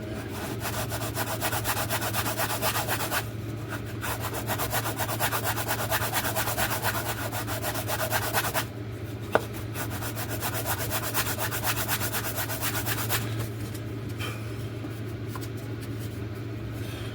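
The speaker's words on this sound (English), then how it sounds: "what it's asking us to do is to pop that on there and then to sand that tab." A small tab on an RC Coyote glider model being sanded, steady close rubbing strokes of sandpaper on wood, continuous with brief pauses and one sharp tap, without talk.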